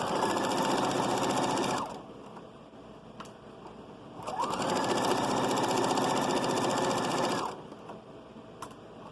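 A sewing machine stitches around a children's hat brim in two long, loud continuous runs separated by a short pause with light handling noise.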